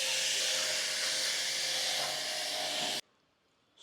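An AGARO high-pressure washer sprays shampoo foam onto a car with a loud, steady hiss close by for about three seconds, then cuts off to near silence before starting up again.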